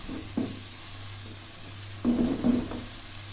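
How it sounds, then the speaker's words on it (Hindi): Okra added to a pan of cooked-down masala for Hyderabadi bhindi gosht, soft sizzling and frying with a few stirring scrapes over a steady low hum. "इसमें अब मैं भिंडी ऐड करने जा रही हूँ।"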